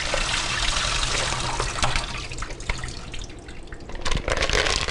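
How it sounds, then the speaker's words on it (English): Water drained from a pot of live mussels, a continuous loud rush of pouring water with small splashes and clinks, close and alone. "you drain the water first, of course"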